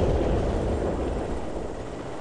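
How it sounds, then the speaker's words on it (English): An explosion rumbles in a military video game, a loud, deep roar that fades gradually over a couple of seconds with no voices. "Ooh, look at that explosion."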